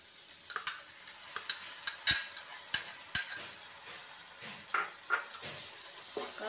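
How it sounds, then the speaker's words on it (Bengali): Paneer masala being stirred in a pan after cashew paste goes in, with a steady soft sizzle and intermittent scraping clicks of the spoon against the pan. "কাজু বাদাম বাটাটাও দিয়ে সব কিছু আবার ভালো মতন মিশিয়ে নিচ্ছি"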